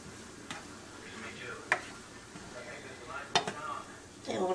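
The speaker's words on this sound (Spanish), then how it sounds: "Le vamos echando el arroz y tenemos que ir revolviendo" A spoon stirs rice in a pan, scraping the metal with sharp, irregular clinks and soft shuffling between strokes, fairly close.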